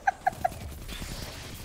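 Three quick rooster clucks from a chicken in the Destiny 2 video game, evenly spaced and fairly loud, followed by a low rumbling game background with no talking.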